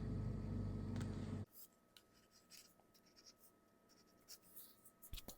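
A pen writes on paper, quiet close scratchy strokes in short irregular bursts after a louder rumble cuts off.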